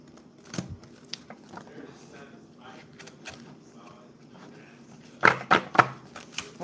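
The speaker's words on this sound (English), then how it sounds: "By the way, I suck at shuffling." A deck of playing cards is shuffled by hand, giving a quick burst of three or four crisp riffling snaps near the end, after a quiet stretch of faint handling noise.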